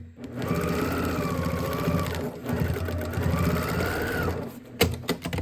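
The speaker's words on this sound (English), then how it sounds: "come in and sew right across that line" A sewing machine stitching across the fabric of a dopp kit toiletries bag, two long steady runs of close, loud motor whirring separated by a brief pause, then a few clicks and handling knocks.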